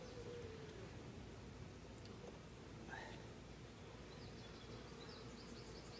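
A soft, continuous hum of honey bees buzzing nearby as hive frames are handled, with faint rustling and occasional light knocks.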